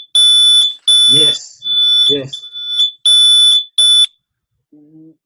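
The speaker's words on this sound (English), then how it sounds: "Smoke alarm is going off in Cleveland." A shrill smoke alarm beeps in loud, piercing bursts, with brief bits of a voice cutting in between them.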